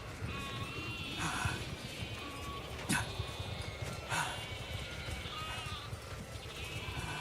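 Sheep bleat repeatedly over a dense, rumbling background of movement and noise, with several cries standing out at intervals across the scene.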